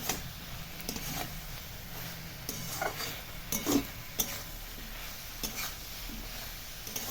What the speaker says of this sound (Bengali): ভালো করে নেড়ে চেড়ে দিচ্ছি।